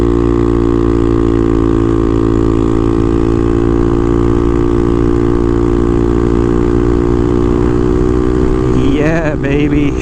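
A Honda Navi motorbike engine runs steadily at a constant, close, loud idle-like drone, with a brief burst of other noise near the end.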